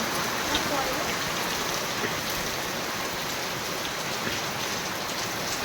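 Rain falls steadily, a dense, even hiss of drops striking surfaces that holds constant throughout without pause, close and fairly loud, with no clear voices over it.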